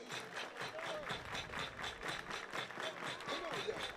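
A baseball crowd at a playoff game claps along in rhythmic unison, the steady beat carrying over a busy ballpark murmur with voices mixed in.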